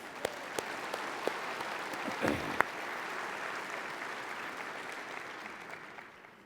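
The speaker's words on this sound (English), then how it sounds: "Let's give them another round of applause, please." Moderately distant audience applause rises from a few sharp individual claps into a sustained, even patter that slowly fades, with no talking over it.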